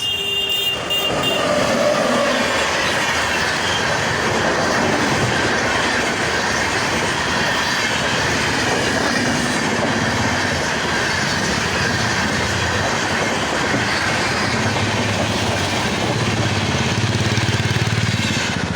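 Mithila Express passenger train rolling past at close range, a loud steady rumble of wagons with clattering wheels and faint squeal throughout, no talk.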